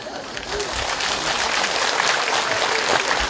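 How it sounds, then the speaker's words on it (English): Audience clapping during a talk on Buddhist vegan life, a steady wash of applause lasting a few seconds with no pauses. "Why are you clapping?"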